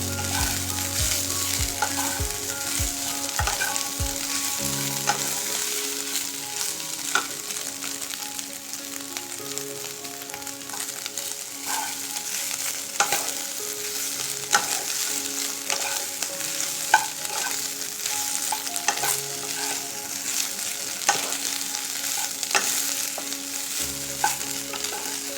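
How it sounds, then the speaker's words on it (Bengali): Mini soybeans frying over a medium-high gas flame for vegetable chow mein, with a steady close sizzle and repeated stirring scrapes and clinks throughout, no talk. "গ্যাসের ফ্লেমটাকে মিডিয়াম টু হাই ফ্লেমে 2 থেকে 3 মিনিট ভালো করে ভেজে নেব"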